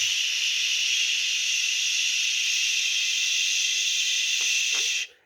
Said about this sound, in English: you're going to hit steam, and you're going to blast it with steam for about 5 or 6 seconds